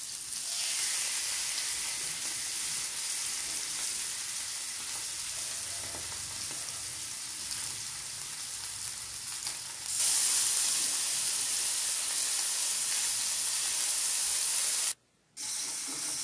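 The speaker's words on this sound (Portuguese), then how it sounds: "aqui eu tô apenas selando a carne. E eu vou selar de todos os lados" Contra filé beef sears in a hot pan with a steady, loud broadband sizzle that grows louder partway through, cut by a brief silence near the end.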